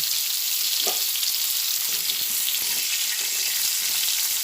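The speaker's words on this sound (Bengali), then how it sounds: "নুনটা অল্পই দিয়ে ভেজে নিলাম ফুলকপিগুলো লাল লাল করে ভাজা হয়ে গেছে" Cauliflower florets fry in hot oil with a little salt, giving a steady close crackling sizzle with faint clinks of stirring throughout.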